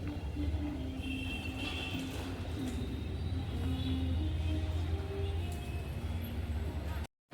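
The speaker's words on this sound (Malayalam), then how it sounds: "അങ്ങനെ നമുക്ക് പോകാനുള്ള ട്രെയിനിൻ്റെ അടുത്തേക്ക് വന്നിരിക്കുകയാണ്, ഗുരുവായൂർ മധുരൈ എക്സ്പ്രസ്" The Madurai–Guruvayur Express stands at a station platform, giving off a continuous low rumble with steady droning hum tones and faint scattered platform noise throughout.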